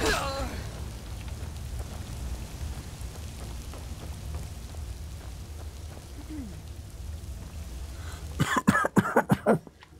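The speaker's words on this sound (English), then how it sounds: "Cough my insides up." In the video game The Elder Scrolls V: Skyrim, a burst of rough, repeated coughing erupts near the end after a long stretch of low ambient rumble with faint vocal sounds early on.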